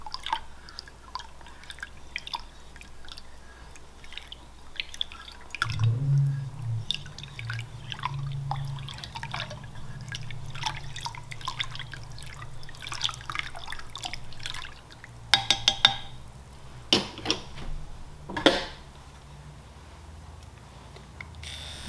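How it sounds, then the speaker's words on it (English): A liquid mixture is stirred in a container, giving soft, intermittent sloshing and dripping sounds with light clinks of the stirrer against the sides and a low steady hum underneath. "And just stir it up."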